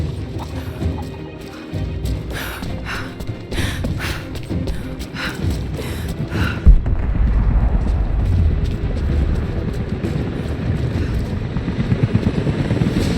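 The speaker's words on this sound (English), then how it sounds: "helicopters are headed your way." Rotor thumping of helicopters in Rise of the Tomb Raider grows louder and closer over a dense rumble of engine noise and scattered crashes.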